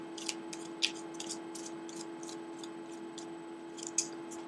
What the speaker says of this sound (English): I'm using the Radiant Rider-Wheat Smith deck. And I'm going to go ahead and shuffle.